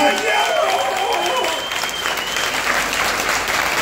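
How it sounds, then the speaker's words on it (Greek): Steady applause from a crowd at a live band concert, dense and sustained throughout, with some voices faintly mixed in. "ένα χειροκρότημα"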